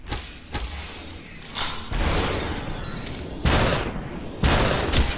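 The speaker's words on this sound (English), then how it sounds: "I shot him 3 times." Gunshots in SUPERHOT, several heavy booming blasts spaced about a second apart over a noisy background, loud and close with no talk.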